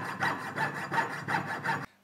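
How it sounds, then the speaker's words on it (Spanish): A mammoth ivory ring is worked with a hand file in steady, rhythmic back-and-forth rasping strokes, about five passes, close and fairly quiet, with no talking. "lo que hago es, luego lo acabo lijando con lima"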